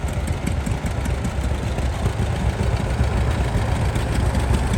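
A David Brown Cropmaster tractor engine idles at a vintage steam rally, giving a steady low throbbing rumble that runs continuously and fairly loud, with no talking.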